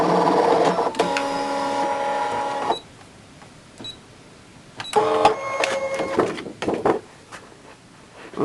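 A Brother ScanNCut cutting machine runs an embossing pass, its carriage whirring in several stop-start bursts of motor tones with quiet pauses between, no voices.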